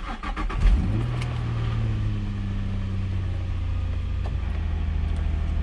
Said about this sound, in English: So let's try starting the car.